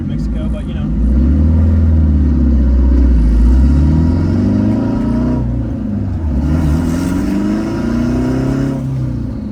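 A turbocharged K20-engined Honda Civic pulls hard, its engine note climbing and dropping through gears, loud and close as if heard from inside the car.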